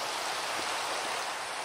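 Steady rain falling in the video game Minecraft, a dense even hiss of downpour filling the whole moment with no voices.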